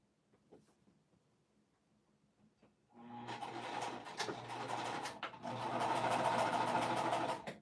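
A sewing machine stitches quilting pieces together, starting after a few quiet seconds with a steady fast whirring rattle that pauses briefly and resumes, close and fairly loud.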